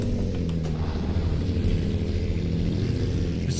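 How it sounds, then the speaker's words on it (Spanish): A Mercedes-Benz Atron 1635 truck pulling a Krone container trailer drones steadily while driving, its engine a loud, continuous low rumble with road noise that stays even throughout. "Me gusta el sonido del motor."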